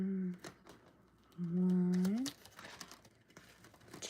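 Paper envelopes crinkle and rustle in brief bursts as they are handled and counted, close and soft, with a voice speaking over part of it.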